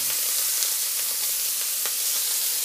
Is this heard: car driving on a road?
no